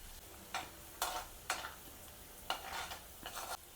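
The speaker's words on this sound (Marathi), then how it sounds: "लसूण चांगला तळून घ्यायचा।" Chopped garlic cloves frying in hot oil on a low flame, a faint sizzle punctuated by about six short spatula scrapes against the pan at a loose, irregular rhythm.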